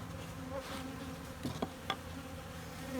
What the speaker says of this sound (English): So it's full of bees and they're working away in there